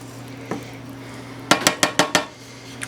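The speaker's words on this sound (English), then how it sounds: "I'll give it a stir. Some of the cheese will melt into the sauce." Stuffed pork chops in a cheesy sauce are stirred in a pan. A single metallic clink is followed by a quick run of five sharp, evenly spaced utensil knocks against the pan, then one faint tap.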